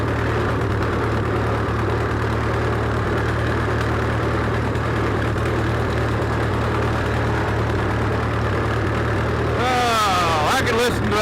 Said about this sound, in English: poor little old tractor just doing what it was supposed to do